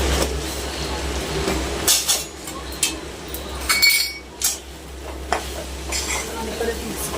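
Okra stirred in a pan, with repeated scraping and clinking strokes of a spoon against metal over a soft sizzle and a low steady hum, close and uneven in rhythm.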